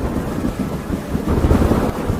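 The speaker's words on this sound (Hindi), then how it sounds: "इतनी तेज बारिश अगर यूं ही बरसती रही" Heavy rain pours down steadily with low rumbling throughout, likely distant thunder, a dense continuous roar with no voices.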